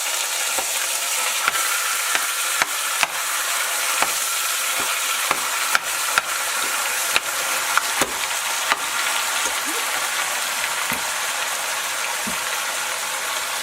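Hot Italian sausage browns in a pan for chili, with a continuous close sizzle broken by regular sharp clicks and scrapes of stirring, and no voices.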